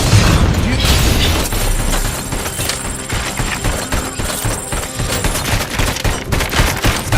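Rapid bursts of video game gunfire from RoboCop Rogue City rattle loudly and continuously, with heavy booms and repeated shots layered over one another.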